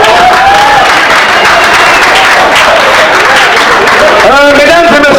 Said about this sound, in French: On applaudit pour les femmes.